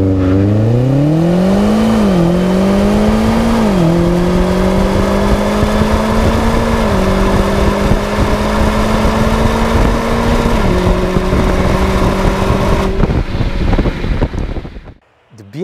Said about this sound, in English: this is the rumbly V8 that always will remind you of the money you've spent for this car